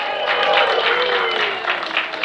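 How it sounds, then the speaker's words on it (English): Audience applause at the end of an animation class, honoring the teacher. Dense, steady clapping from a seated crowd fills the whole moment, close and fairly loud, with faint voices mixed in. "Let's give Sam a big round of applause, everyone"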